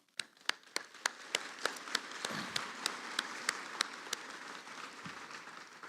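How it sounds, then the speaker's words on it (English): Audience applause at an ARVO keynote event honoring 2025 Gold Fellows, a steady wash of many hands clapping with sharp individual claps standing out, moderately distant and sustained throughout. "We can have a round of applause."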